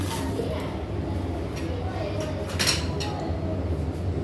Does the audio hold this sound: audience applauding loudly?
no